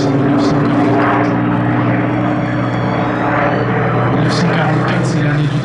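A historic propeller airplane drones loudly and steadily overhead at the Melun-Villaroche airshow, its engine note holding a constant pitch with crowd noise and voices mixed underneath.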